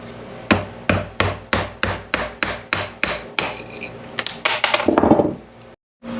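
Metal tent part clamped in a vise being struck with a hammer, about a dozen sharp, evenly spaced ringing blows, close and loud, followed by a brief scraping rattle.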